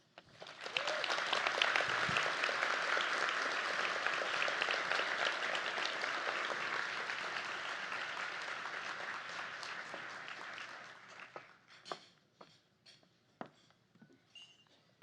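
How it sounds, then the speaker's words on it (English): Sustained audience applause at a leadership luncheon, a dense steady wash of many hands clapping for about ten seconds, then thinning out to a few scattered claps near the end. "Let's give Dr. Jackson another round of applause"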